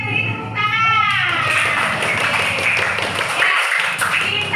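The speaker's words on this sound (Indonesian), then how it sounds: "Oke, beri tepuk tangan." Classroom students clap together in a dense, steady burst that runs the whole time, mixed with scattered taps and the chatter of young children.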